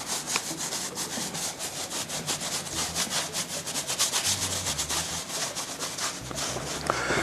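A brush whisks glaze over a distressed faux-finished plaster wall in a steady run of quick, dry scratchy strokes, close and continuous, with no talking.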